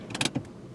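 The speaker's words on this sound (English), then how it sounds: "Oops, didn't go to neutral, and that's why the car stalled." A petrol car engine stalls in second gear after braking without shifting to neutral, giving a brief mechanical shudder and clunk, close and fairly quiet, with no talking.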